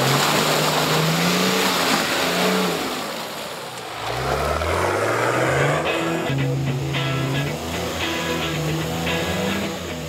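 A 4WD vehicle drives off-road at Levuka 4WD park near Coffs Harbour, its engine loud and close with shifting revs that dip and then climb again over rumbling terrain noise.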